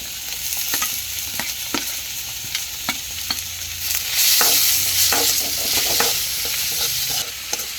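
Chopped onion, ginger and garlic sauté in hot coconut oil as a loud, continuous close sizzle that swells partway through, with stirring scrapes and clicks and no voices.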